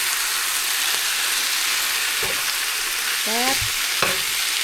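Squid stir-fry being stirred in a hot pan: a steady loud sizzle with a few scraping strokes of the utensil against the pan near the end, and one brief spoken word.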